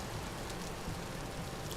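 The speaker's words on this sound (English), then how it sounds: "Yeah, it's raining." Rain falls in the video game Vintage Story, a dense, even hiss of drops heard close and steady throughout the brief moment, with no voices.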